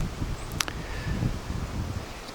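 Northeast wind moves through Kansas public-land woods during an archery deer hunt, a steady low rush with light rustling and brief faint ticks, no talking.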